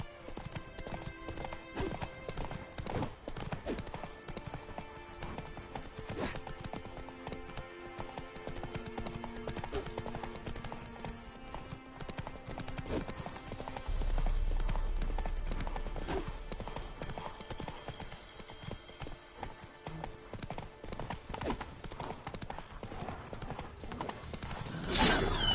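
Roach, the horse from The Witcher 3, gallops with steady clip-clop hoofbeats over a dense game soundtrack of music and ambience, holding a constant rhythm throughout with a low rumble swelling midway.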